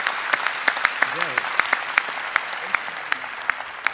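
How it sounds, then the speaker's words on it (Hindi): Audience applause at a Hindi poetry recital, dense clapping with sharp individual claps standing out rhythmically, and a voice briefly speaking over it. "आइए एक बार जरा जोरदार तालियां बजा के।"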